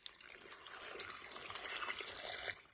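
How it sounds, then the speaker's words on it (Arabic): Water poured onto three kilos of sugar for a homemade honey syrup, a steady close splashing stream that swells over a couple of seconds and then eases off, with no voices. "هاد 3 كيلو ديال السكر غادي نضيف لهم الماء"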